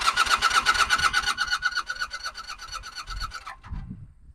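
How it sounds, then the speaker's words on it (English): The starter cranks a 1982 Honda Nighthawk motorcycle engine, a loud, close, rapid rhythmic whirring that runs for about three and a half seconds before stopping, followed by a few faint thuds. "All right, so we got crank."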